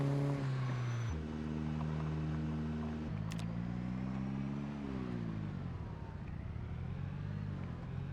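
Synthetic-sounding van engine in Project Zomboid with stepped tonal pitch shifts as gears change, humming and droning steadily throughout, no voices.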